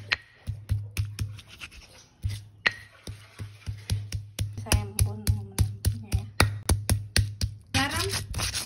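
Coriander, ginger and pepper are pounded by hand, a quick series of sharp, close knocks and scrapes in a steady rhythm with brief pauses between bursts.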